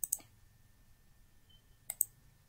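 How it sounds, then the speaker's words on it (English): Computer keyboard keys tap during work in circuit simulation software, as two quiet pairs of quick clicks, one at the start and one near the end, separated by near silence. "So just type in ground and you'll get it."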